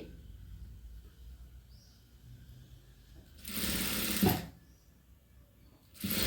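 Sewing machine stitching cloth for a dots-and-cross trim, two bursts of fast, whirring mechanical stitching, about a second and then a shorter start, separated by a quiet pause.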